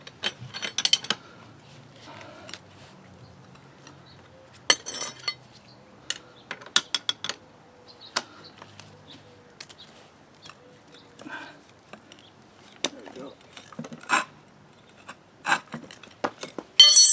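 A ratchet tightening a bolt on a 2008 Volvo S60 T5 front strut, with sparse sharp metallic clicks and clacks scattered across a quiet garage, some isolated, some in short clusters, close to the mic, with no talking.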